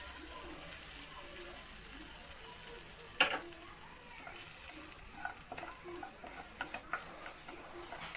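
Cumin seeds fry in butter in a kadhai, giving a faint, soft sizzle under a low background, broken by a sharp clink and a few light utensil taps and scrapes toward the end.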